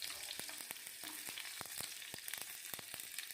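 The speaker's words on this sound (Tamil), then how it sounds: "பேனில் கொஞ்சமாக ஆயில் விட்டுக்கோங்க. கடுகு தாளிச்சிக்கலாம்." Hot oil sizzles quietly with sharp intermittent pops and crackles of mustard seeds spitting in a pan, steady hiss underneath.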